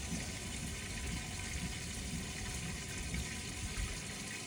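Water flows steadily back through piping and valves into the bottom of a tank, a constant dense rushing and gurgling wash that stays loud and even throughout, with no talk.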